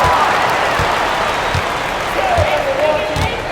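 A basketball arena crowd in the video game NBA 2K22 claps and cheers in a steady, loud wash, with rhythmic low thumps and a voice talking over it.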